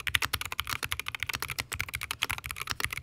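Fast typing on a Wooting 60HE keyboard in a Tofu Redux case, with a rapid, uneven stream of crisp, close keystroke clacks and thocks and no talking.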